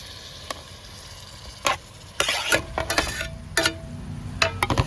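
Squid pieces added to sizzling masala in a pan for squid roast, with soft frying crackle under sharp intermittent clacks and scrapes of a spoon stirring against the pan.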